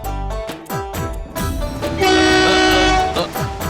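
A train passes in a Bengali comedy film scene, with loud rhythmic rumbling of wheels over the rails and a long, sustained horn blast in the middle, set against background music.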